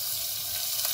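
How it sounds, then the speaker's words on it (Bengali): Onions frying in hot oil and ghee inside a pressure cooker for vegetable tehri, a steady broadband sizzle that holds evenly throughout, close and moderately loud with no talking. "তেল গরম হয়ে গেছে, এবার আমি পেঁয়াজটাকে দিয়ে দিচ্ছি।"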